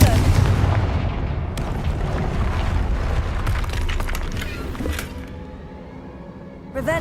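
Confringo fire spell exploding in the video game Hogwarts Legacy, a loud booming blast that rumbles and decays over several seconds, followed by a smaller burst near the end.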